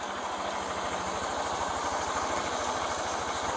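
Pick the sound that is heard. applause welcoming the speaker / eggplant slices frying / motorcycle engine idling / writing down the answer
motorcycle engine idling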